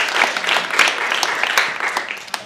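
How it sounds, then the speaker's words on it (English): An audience at a summer camp performance claps in steady applause, close and fairly loud, with no voices. "because when they applaud, you want to say thank you"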